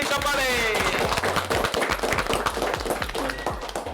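An audience claps for the winners of a game, a steady patter of hands running throughout, mixed with voices and a little background music.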